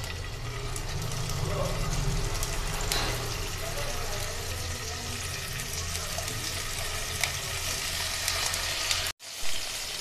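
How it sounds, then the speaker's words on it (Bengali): Paneer cubes fry lightly in a tablespoon of hot white oil in a wok, giving a steady, close sizzle that runs continuously before cutting off abruptly near the end. "তেলটা গরম হয়ে গেছে, এবার পনিরগুলো আমি হালকা করে ভেজে রেখে দেবো।"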